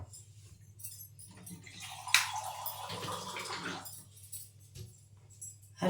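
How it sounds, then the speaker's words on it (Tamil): Half a tumbler of water pours into a pan holding rice flour and jaggery for seedai, a soft splashing rush with a sharp clink of metal near the start. "இப்போ தண்ணி 1/2 டம்ளர் ஊற்றுறேன்."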